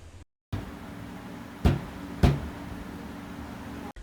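A pen-tapping bass beat made by striking with the wrist part of the hand: two dull, close thumps about half a second apart over a quiet room background.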